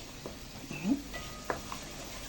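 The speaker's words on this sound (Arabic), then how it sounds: "هحط هنا كده معلقه فلفل اسمر، كمان هحط معلقه كزبره ناشفه، وهقلبها بقى كده تقليبه حلوه" A spoon stirs black pepper and dried coriander in a pot while cow trotter tagine is being prepared, giving quiet scraping and clinking strokes with a few metallic taps and a faint sizzle underneath, all close by.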